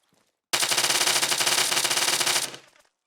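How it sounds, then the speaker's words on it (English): A 9mm Sting submachine gun in Arma Altis Life empties a full 30-round magazine on full auto, a loud, rapid, unbroken burst of about two seconds that cuts off abruptly and leaves a short fading echo. "This is a 9mm Sting. It has burst fire, fully automatic, and single fire as well."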